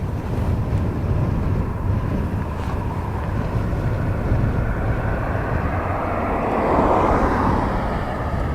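An airplane on flight F4 7072 bound for Porto, departing Dublin Airport, produces a steady low engine roar mixed with wind noise, swelling slightly toward the end as the aircraft draws nearer.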